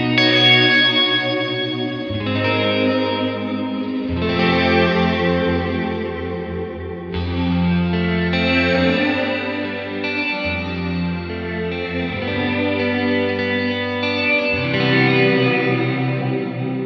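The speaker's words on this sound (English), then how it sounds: "The last of the special modes is a beautiful modulated reverb that's great for rolling chords into." Electric guitar chords rolled through a Fender Reflecting Pool pedal in its modulated reverb mode, each new chord blooming into a shimmering, slightly detuned wash that sustains loudly and continuously, with no voices.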